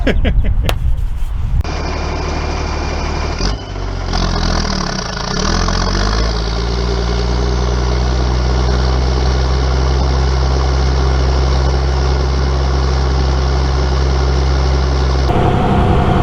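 A Ford TW25 tractor's diesel engine settles into a steady, loud, deep idle after a few brief opening knocks. A person speaks briefly near the start.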